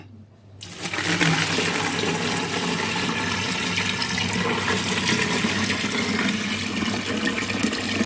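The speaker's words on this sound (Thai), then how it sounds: "เราจะเทน้ำลงไปเลยค่ะ" Liquid pours steadily into a fermenting tank of fruit for wine after a short quiet start, a continuous splashing rush that fills the container for several seconds without talk.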